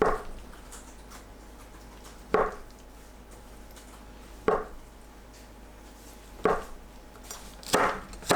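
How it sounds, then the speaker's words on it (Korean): A knife cutting tofu into 1 cm thick slices on a cutting board for braised tofu, sharp single knocks at a slow, uneven pace of about one every two seconds, close and alone. "두부는 반 자르고 1cm 두께로 썰어주세요."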